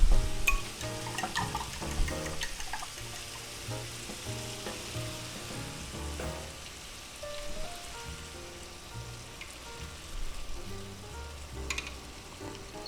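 Beaten egg poured into a hot pan for a quick breakfast omelet sizzles and crackles steadily, loud at first and then settling into a continuous frying hiss with scattered pops, no voices.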